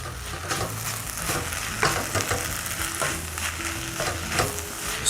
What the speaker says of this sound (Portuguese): Aqui o nosso bacalhau já está refogadinho.